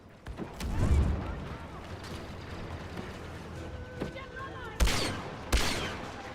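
Video game gunfire, bursts of shots and mechanical clatter scattered through the stretch, with two sharp loud blasts near the end over a low background rumble.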